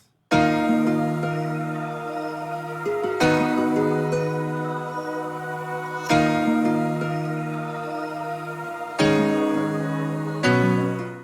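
A bright layered dark trap synth melody made in Studio One plays alone, sustained chords of stacked keys changing every few seconds, loud and clean with no drums or voice.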